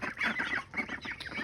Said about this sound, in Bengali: দেখতে পাচ্ছেন আমাদের হাঁসগুলো